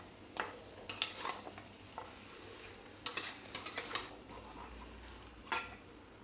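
Mutton and potatoes are stir-fried for curry in a pan, a quiet background sizzle broken by sharp, irregular scrapes and clinks of a spatula against the metal, close by and without talk.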